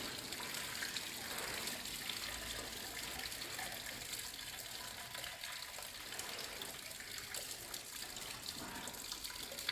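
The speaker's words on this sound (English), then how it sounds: "Draining the coolant, so let's do that now and I'll show you what that's going to look like." Coolant drains steadily from a VW Caddy 2K engine, a faint continuous trickle and splash of liquid running without pause.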